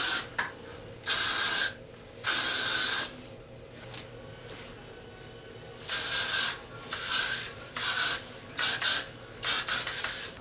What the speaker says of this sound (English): I'm just going to spray the hair a little bit just so it can kind of stay in place